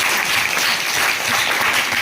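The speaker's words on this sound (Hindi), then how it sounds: "ताली बजा दो जोरदार" Loud, dense applause fills a science quiz show hall as the audience claps steadily for a correct answer, a broad even wash of hand claps lasting the whole moment with no talk.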